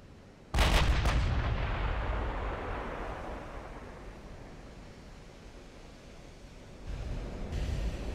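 A battleship's heavy naval guns fire in a WW2-era engagement at Jutland in Ultimate Admiral: Dreadnoughts: one sudden loud booming salvo with quick follow-up cracks that fade into a long rumbling decay over sea ambience, then a second swell of roaring noise.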